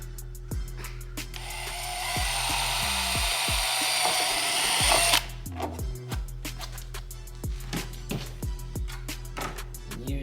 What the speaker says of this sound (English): We're going to go ahead and drill this hole.